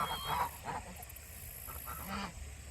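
Geese honk repeatedly at close range while feeding at a campsite, the calls irregular and mid-loud over a soft outdoor background.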